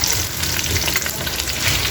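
Loud, steady sizzling and crackling of fish frying in hot oil, continuous and close throughout.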